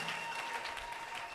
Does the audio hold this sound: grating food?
no